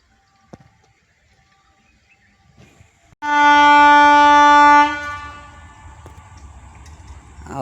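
A train sounds a long, loud horn blast on a foggy morning, then its low rumble continues as it passes nearby, after a quiet start with faint background noises.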